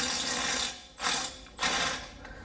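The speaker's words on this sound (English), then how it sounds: "I'm going to be using my Milwaukee impact ratchet" A Milwaukee impact ratchet loosens front wheel bearing bolts on a Nissan Rogue, firing in three loud close bursts of buzzing mechanical rattle separated by brief pauses.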